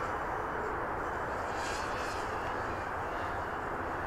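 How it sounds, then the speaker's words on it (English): FLYPRO XJaguar 190mm race quad drone flying with strong motors turning 3-blade propellers, a continuous broadband buzzing whir that stays steady and fairly faint throughout. "These motors are strong, and on the 3-bladers, it is moving a lot of air."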